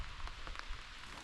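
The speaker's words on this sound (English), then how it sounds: "And it's raining." Rain pattering onto a tarp and surfaces at a windy lakeside campsite, a close, steady hiss of drops with scattered louder taps, no talk.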